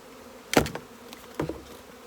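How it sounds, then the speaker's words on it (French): Honeybees freshly shaken into a nucleus hive hum in a low, steady drone, broken by two sharp knocks of wooden hive parts a second apart. "Puis vous voyez dans la ruchette, maintenant c'est plein d'abeilles."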